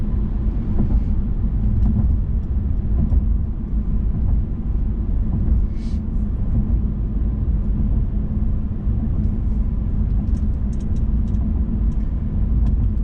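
Interior drive in a 2019 Mercedes-Benz C300, a steady low engine and road rumble that holds loud and even throughout, with brief faint clicks and no speech.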